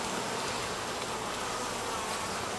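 Steady dense buzzing of many honey bees around a hive after a swarm, continuous and close throughout with no voices.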